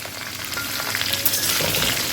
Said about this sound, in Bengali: এই সমস্ত কিছু উপকরণ দিয়ে আমি একটু দু থেকে তিন মিনিট সময় নাড়িয়ে নেবো